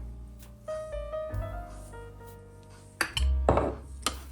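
A spoon clinks and scrapes against a bowl while mixing wet ingredients with poppy seeds and milk for Easter bread, with a few louder knocks of utensil on dish near the end; no talking.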